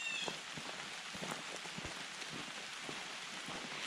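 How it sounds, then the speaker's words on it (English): Rain patters on the forest canopy above a riverside campsite, a soft steady hiss broken by irregular drips and patters, fairly quiet and continuous. "And it is definitely raining right now, but luckily, under the canopy,"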